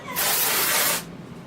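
Dry shampoo sprays from an aerosol can onto hair in one steady, loud hiss lasting about a second, close to the listener, which then cuts off sharply.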